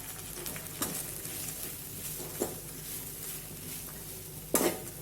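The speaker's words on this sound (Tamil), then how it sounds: "இப்போ நான் 2 மூடி தேங்காய் துருவி எடுத்து வச்சுருக்கேன், அதை கொட்டிடலாம்." Grated coconut tipped onto sautéed onions is stirred and fried in a pan, with a low continuous sizzle and a few sharp scrapes and clinks of a spoon against metal.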